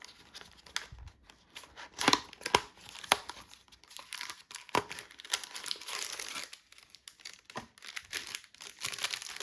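Plastic bag packaging of a Caseology Parallax phone case for the Pixel 6 Pro crinkles and crackles as it is handled and opened, with irregular rustling bursts and sharp snaps over several seconds.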